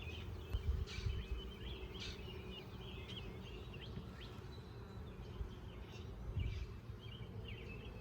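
Honeybees buzz around an open hive while frames are moved from nucs into full deeps, a faint, continuous drone with a few nearer passes and distant bird calls.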